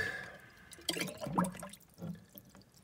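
Water pouring and gurgling into a container being filled, likely while checking salinity before elver fishing, with splashy bursts and dripping that rise and fall close by.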